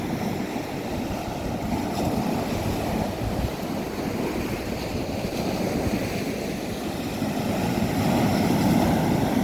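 Surf rolls constantly onto a sea shore, a dense low roar of breaking water that swells slightly toward the end, with wind mixed in and no voices.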